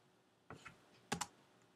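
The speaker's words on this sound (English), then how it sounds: "I'm pressing enter to get the information on the screen" Keys are pressed on a computer keyboard, heard as two brief, faint pairs of clicks about half a second apart against a quiet room background.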